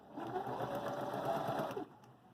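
A Viking Emerald 118 sewing machine stitching a one-step buttonhole, heard as a fast, steady mechanical whir with rapid needle clatter that runs continuously for a couple of seconds and then stops abruptly.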